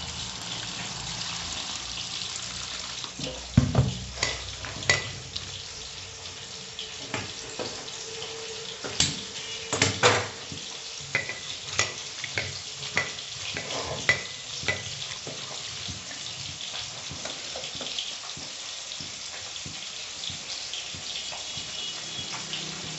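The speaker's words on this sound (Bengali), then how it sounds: "কড়াইতে ফুলকপিটা ভেজে নেবো" Cauliflower frying in a kadai in a home kitchen, a steady oily sizzle overlaid with repeated spatula scrapes and clatters, some sharp knocks, and no talking.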